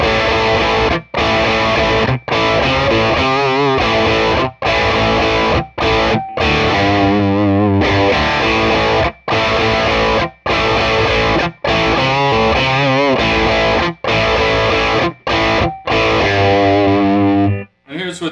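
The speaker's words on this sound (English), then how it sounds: "the more traditional way of getting the distortion from the preamp side" Heavily distorted electric guitar plays loud, crunchy chords and riffs through a Dr. Z Maz 8 amp with preamp distortion, with brief pauses between phrases.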